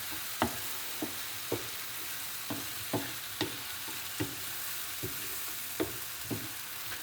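Mushrooms with garlic powder being tossed in a frying pan over a steady sizzle, punctuated by about a dozen evenly spaced soft knocks and scrapes of the pan or utensil, close and without speech.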